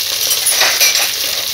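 Fresh washed fenugreek leaves hitting hot oil in a pan give a loud, bright, crackling sizzle that swells briefly and holds steady, close up.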